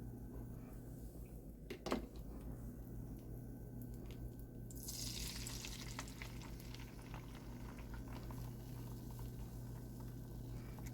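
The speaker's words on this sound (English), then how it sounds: "I'll let that fry up just a little bit." Eggs and beef sausages frying in a hot pan, a steady soft bubbling sizzle running throughout with a faint brief clatter early on, rising to a brighter crackle partway through.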